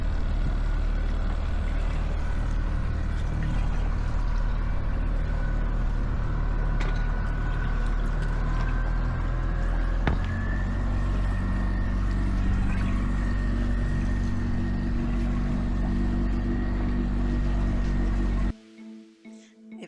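A Dragonfly 920 trimaran motors out through a harbour breakwater, its engine a steady, close, low drone with a humming whine on top that runs unbroken for most of the stretch, then cuts off abruptly near the end.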